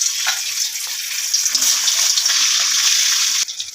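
Potatoes go into hot oil already seasoned with garam masala for a vegetarian dish, raising a loud, even sizzling hiss that holds steady and then drops off sharply near the end.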